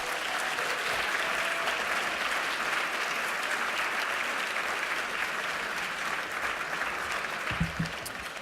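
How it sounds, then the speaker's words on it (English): A room full of people applauds steadily for several seconds, dense clapping at an even level with a small thump near the end. "I know you were just clapping"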